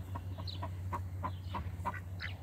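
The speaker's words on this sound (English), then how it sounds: "Here's a group of hens just pecking around." Backyard hens pecking around outdoors give soft, scattered clucks and short calls at close range, with a steady low hum running underneath and no talking.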